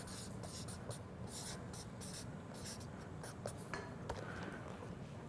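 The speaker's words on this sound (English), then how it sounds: "I'm just going to write this down." Handwriting with a pen on paper during a card magic routine: soft, close scratchy strokes in irregular bursts, quiet and continuous for several seconds, with no voice.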